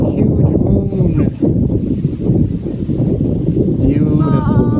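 Steady wind gusts buffet the microphone on an autumn evening hike at night, a constant low roar that runs the whole time with a few faint brief sounds over it.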